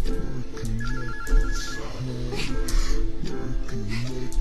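A clown character in the video game Gillian's Desolation rings like a telephone, giving repeated electronic ring bursts in a steady rhythm, fairly loud and close, with game music or sound underneath.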